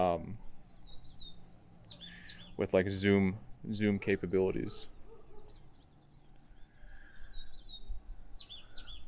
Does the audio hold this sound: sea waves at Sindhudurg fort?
no